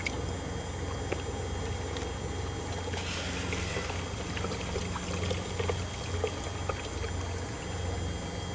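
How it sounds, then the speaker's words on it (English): Water washing dirt through a gold sluice, heard as a steady close pour and rush of flowing water with scattered small splashes and trickles. "So now I will wash the dirt through and watch the gold"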